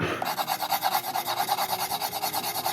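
A colour pencil is turned in a sharpener, giving a close, rhythmic rasping scrape that repeats about eight times a second, steady and alone.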